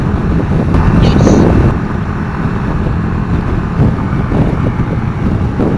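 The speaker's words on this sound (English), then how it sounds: "Oh, it got windy by the water now." Wind by the water during a motorcycle ride rushes across the microphone in a continuous low rumble, loudest at the start, with faint outdoor background beneath.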